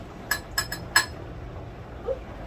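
A knife clinks against dishes while chicken wings are prepared, four short, bright metallic taps in quick succession, then a faint softer knock after a pause.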